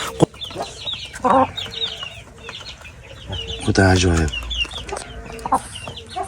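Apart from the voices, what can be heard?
rooster clucking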